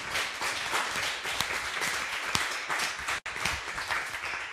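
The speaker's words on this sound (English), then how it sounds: "Let's give him another round of applause." An audience at a forum event claps for the speaker Jay Cheng after a question session, a lively, steady burst of many hands with a few sharper individual claps and one brief dip.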